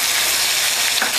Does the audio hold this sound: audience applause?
no